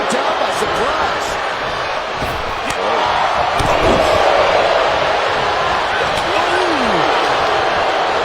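Wrestling arena crowd during a Royal Rumble elimination match, a loud, sustained roar of many voices that swells partway through, with scattered shouts and commentary-style talk mixed in.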